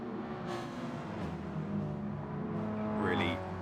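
A Mini Cooper race car in Gran Turismo Sport drones along with a steady engine hum, rising in pitch as it revs near the end, while someone talks over it.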